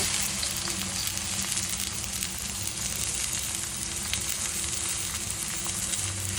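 Two large chopped onions sautéing in a pan: a constant close sizzle and crackle of frying, even in level throughout with no voices.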